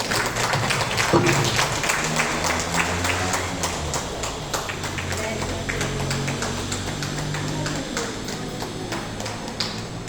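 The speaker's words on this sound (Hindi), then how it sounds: "तो इनका तालियों से स्वागत किया जाए" Audience applause at a women's poetry gathering (Mahila Kavya Manch), welcoming a poet: dense, sustained clapping that stays loud and steady throughout, with a voice audible near the start.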